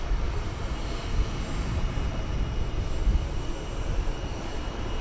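Steady airplane engine roar at DFW Airport, a continuous broadband rumble that holds level with no breaks and no speech.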